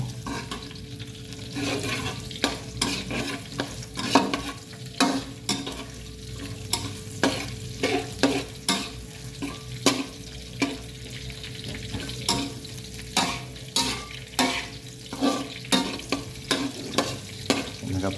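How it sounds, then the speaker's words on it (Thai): Chili and garlic stir-frying in a pan for a cabbage dish with oyster sauce: a rhythmic series of sharp spatula scrapes and knocks over a continuous sizzle, close and lively throughout. "ผัดพริกกระเทียมให้เขามีกลิ่นหอม"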